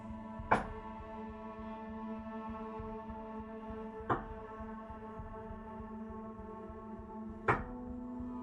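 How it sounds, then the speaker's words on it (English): Three sharp, evenly spaced knocks on a room door, several seconds apart, sound faintly over a low steady hum. "Knock on the door to your room 3 times,"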